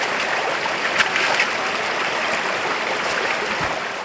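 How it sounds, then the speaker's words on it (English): A creek near a winter bush camp rushes steadily and close, a dense unbroken wash of flowing water with no voices. "I think this creek is my water source for this little camp."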